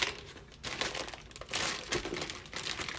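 A Ziploc bag holding marinating chicken crinkles and rustles as air is pressed out, close and fairly quiet, in uneven crackling surges with no one speaking.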